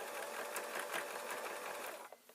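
A sewing machine runs steadily at close range, stitching a small stitch on fabric for a pillow, its rapid mechanical whir continuous before slowing and stopping near the end.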